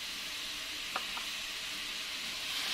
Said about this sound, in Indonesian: Panaskan wajan dan beri sedikit air. Kemudian masak bawang bombay